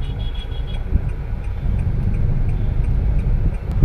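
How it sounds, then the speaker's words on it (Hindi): A car driving through Surat at night, its engine a steady low rumble close by with faint ticks over the top and no talking. "देख सकते हैं चल रही अपनी गाड़ी बढ़िया मौज मस्ती में"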